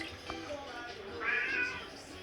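A cat meows in a kitchen where şekerpare pastries are being soaked in syrup, with one drawn-out, fairly close meow rising over quiet room noise.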